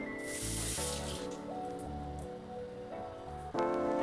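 A raw mango is washed clean under a running kitchen tap, producing a steady rush of water with small splashes and shifts in tone as the fruit is turned beneath the stream, close by.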